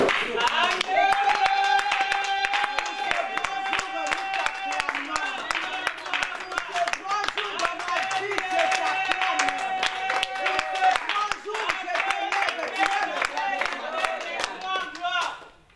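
A worshipping congregation claps in steady rhythm through a sung song of praise to Jesus, the even beat running continuously beneath voices and music in a reverberant church hall, loud and close.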